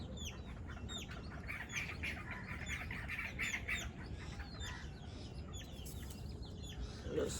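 Young poultry chicks chirp continuously in a dense, overlapping chorus of high peeps throughout, moderately close with a steady low background hum.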